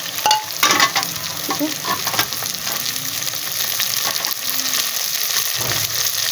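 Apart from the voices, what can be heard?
minced meat frying and being stirred in a pan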